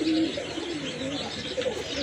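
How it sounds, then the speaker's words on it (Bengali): Soft, low coos of large local-breed pigeons repeat close by, with faint chirps and a gentle background hum filling the short stretch. "আরেক জোড়া দেশি কবুতর এটা কিন্তু অনেক বড় সাইজের কবুতর"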